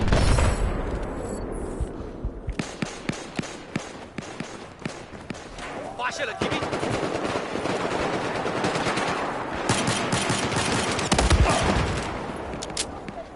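Rapid automatic gunfire from a Battlefield 4 match, loud bursts of close shots with a sustained heavy barrage and scattered booms, no talk over it.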